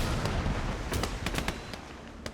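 Field guns firing in a war video game during an ambush on a German convoy, a rapid series of sharp booming reports over a constant rumbling battlefield din, fairly loud with no voices.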